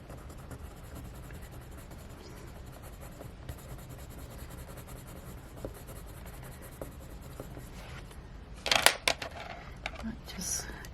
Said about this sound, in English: These pencils, I mean, they go right on the paper